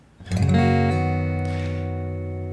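A single acoustic guitar strum rings out, with a quick hammer-on note from two free fingers shifting the chord just after, then sustains and slowly fades.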